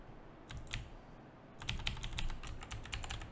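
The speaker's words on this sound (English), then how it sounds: "Let's use the keyboard." Keys clatter on a computer keyboard in quick, uneven bursts, first a few taps and then a denser run of clicks, close and fairly quiet with no talking.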